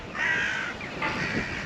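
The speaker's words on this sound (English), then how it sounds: "these crows are really loud" Several crows caw loudly outdoors, harsh repeated calls in two bursts, close and dominant with no talk over them.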